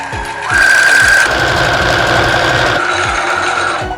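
A sewing machine stitches steadily around a bag pocket, a loud continuous motor whir with rapid needle clatter running for most of the few seconds, with no talking.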